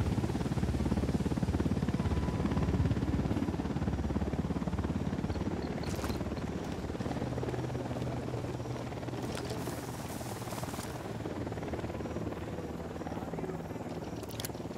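A helicopter in the video game Ghost Recon Wildlands hovers nearby as a steady low rotor drone under ambient game sound. It is fairly quiet and continuous, with a few brief clicks and rustles on top.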